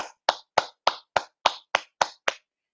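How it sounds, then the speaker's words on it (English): Nine sharp hand claps ring out at an even pace, close and loud, each one alone with silence between. "So let's clap our hands a little bit."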